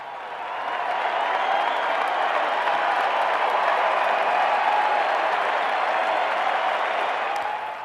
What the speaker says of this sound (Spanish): Empezaron los aplausos, esta vez por las autoridades, y la multitud siguió con gritos y elogios